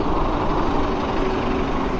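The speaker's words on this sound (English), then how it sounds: "Is this bus making a U-turn?" A bus engine rumbles nearby on a city street as the bus makes a U-turn, a steady, loud low drone with no talking over it.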